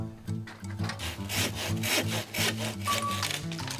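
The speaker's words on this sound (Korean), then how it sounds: "가지를 쳐낼 참인지 열심히 톱질을 하는데요." A hand saw rasps through a tree branch in quick back-and-forth strokes, steady and close, with no voices.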